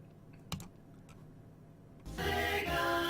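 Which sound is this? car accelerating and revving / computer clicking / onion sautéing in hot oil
computer clicking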